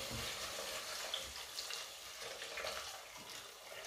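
Pre-boiled water poured onto meat cooking in a pan for Ufak Köfte, heard as a soft continuous sizzle and splash, faint and steady.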